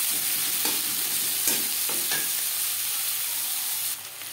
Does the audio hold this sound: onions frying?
yes